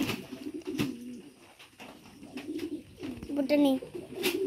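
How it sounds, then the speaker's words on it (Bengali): Old domestic pigeons at a farm coo in low, repeated murmurs, near and fairly steady, with a person talking over them and a few brief calls in between. "বাড়ির পুরাতন কবুতর"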